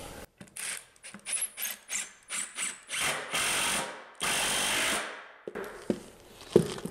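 A power drill drives a screw into a wooden stair half newel, with short whirring pulses building into longer sustained runs, followed by handling clatter close by.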